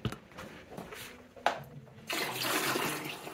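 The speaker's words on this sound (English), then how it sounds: "We're gonna add some more water to fill it up all the way to the brink." Water poured into the tank of a Honeywell humidifier, a steady splashing rush that builds and stays loud toward the end after softer trickles and a brief splash at the start.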